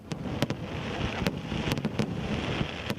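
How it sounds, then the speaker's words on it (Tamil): Diwali fireworks burst in the sky in a quick irregular string of sharp cracks and pops, some near and loud, others fainter, over a continuous crackling hiss. "வானில் வர்ண ஜாலம் காட்டும் புதிய வகை ஷார்ட் வானவெடிகள்"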